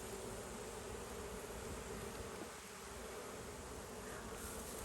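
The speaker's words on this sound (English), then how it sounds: "Bunch of bees" A dense, steady drone of honey bees buzzing at a hive, a continuous close hum filling the whole stretch without pauses or voices.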